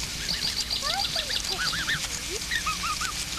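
Geese swimming in water honk over and over in a busy, overlapping chorus, with a few nearby calls standing out against steady background noise.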